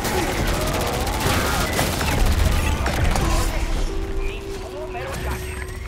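In MW3 Zombies, a turret fires a rapid burst of gunfire that then thins into scattered shots and game effects, with people talking over it.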